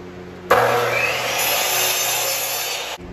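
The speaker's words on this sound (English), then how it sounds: "I'm coming over here to my chop saw. I'm cutting 5 1x4s, 6 inches long." A chop saw cuts through 1x4 wood boards in one loud, steady whining buzz lasting about two and a half seconds, starting abruptly and stopping sharply, close and alone.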